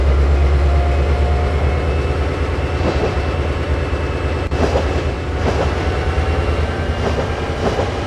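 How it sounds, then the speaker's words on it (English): Powerful locomotive accelerating slowly in Train Simulator, a steady loud low engine rumble with faint rail clatter and occasional clicks throughout. "The locomotive is powerful. It accelerates a bit slowly,"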